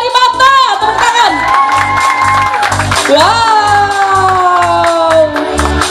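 An audience at a school arts performance closing ceremony cheers and shouts loudly, with children's voices whooping over a continuous crowd roar that holds steady throughout.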